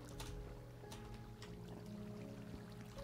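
Flowing water in Minecraft as a stream is directed toward a bamboo smelter build: a steady, soft trickling wash that runs continuously at low level, with faint game tones beneath it.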